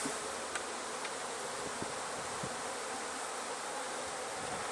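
Honey bees swarm around a hive in a dense, continuous buzz that holds steady and close throughout, with a few faint clicks.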